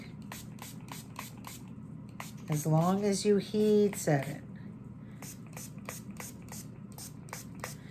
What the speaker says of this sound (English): I'm just spraying all over